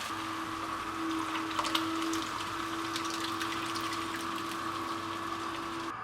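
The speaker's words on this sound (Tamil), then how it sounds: "உங்களுக்கு எந்த திக்னஸில் சாம்பார் தேவையோ அதளவுக்கு நீங்கள் வந்து தண்ணி ஆட் பண்ணிக்கோங்க" Water pours into a pot of cooked dal while making sambar for idli, a soft, steady gushing wash with a faint constant hum beneath, continuous and fairly quiet with no speech.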